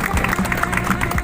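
An audience at a motorcycle club's touring send-off bursts into scattered, rhythmic clapping, near and moderately loud, with a voice faintly underneath.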